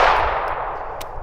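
A single sharp shot from a Smith & Wesson M&P 9 Spec Series pistol fitted with a compensator, loud and close, decaying quickly with a faint metallic ring.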